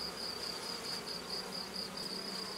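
Honeybees buzzing on a hive frame during an inspection, a steady dense hum of many wings, close and continuous, with no voices over it.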